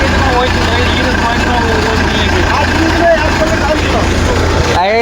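A Swaraj 744XT tractor with a fully loaded trolley runs steadily as it turns, its engine a continuous low rumble with faint squeaks and a sharp rising whine near the end, while people talk nearby.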